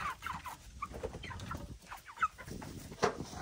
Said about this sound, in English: Right now we have 18 big, fat, healthy chickens